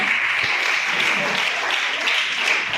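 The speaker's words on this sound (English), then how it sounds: "Big round of applause for Yashoda." Steady applause from a school audience at a National Space Day quiz competition, filling the whole stretch at an even, fairly loud level with no clear break.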